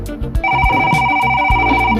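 A telephone rings with a steady electronic ringtone, a sustained tone repeating under a rhythmic low backing beat, loud and close, with no talking over it.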